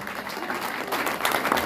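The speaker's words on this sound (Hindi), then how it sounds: "ताली तो बजा देंगे।" Applause from a devotional gathering audience in Vrindavan during Holi, a steady dense patter of many hands clapping at moderate distance, continuous and fairly even throughout, with no one speaking over it.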